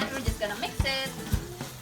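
Tomato paste with greens is stirred in a frying pan, a soft sizzle broken by a few scraping strokes of the utensil, close and fairly quiet.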